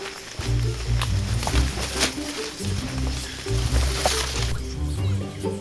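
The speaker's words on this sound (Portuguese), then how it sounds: "Dá pra ouvir, os macacos devem estar aqui perto. Esse grupo tem mais de 100, tá uma barulheira aqui na mata." A group of more than a hundred Sulawesi crested macaques in a Southeast Asian forest, heard close by as a loud, continuous chorus of calls and rustling with repeated low bursts.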